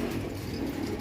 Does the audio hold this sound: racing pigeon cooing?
yes